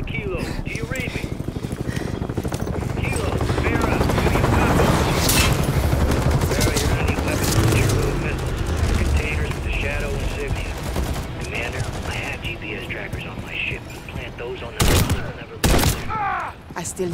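Sustained heavy gunfire in Modern Warfare III, dense overlapping automatic volleys from multiple directions filling the clip, with voices and radio chatter underneath and a few sharp close shots near the end.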